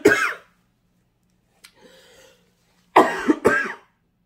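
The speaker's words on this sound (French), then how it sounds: "sauf quand je commence à tousser comme ça" A woman with a cold coughs in a short burst at the start, breathes faintly mid-clip, then lets out two more harsh, close coughs near the end, with no talking.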